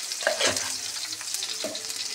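Whole cumin seeds crackle and sizzle in hot oil, a busy spattering hiss with small pops and a couple of stirring scrapes, close by.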